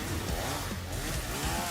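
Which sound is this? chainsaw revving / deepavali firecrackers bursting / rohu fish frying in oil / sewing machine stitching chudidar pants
chainsaw revving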